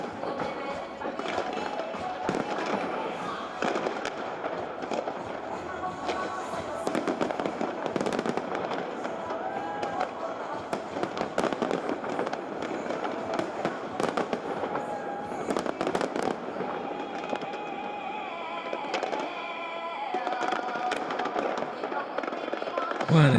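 New Year's Eve fireworks crackle and pop continuously, a dense layer of sharp bursts and rapid firecracker-like snaps filling the whole stretch at moderate distance.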